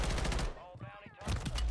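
Pistol fire in the Warzone battle royale game, a burst of sharp, loud shots at the start and again near the end, separated by a short lull with faint background game noise.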